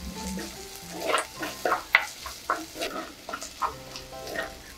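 Small onions, with one large onion added, sizzle and fry in a pan for prawn gravy, with soft crackling and scraping as they are stirred, close and alone.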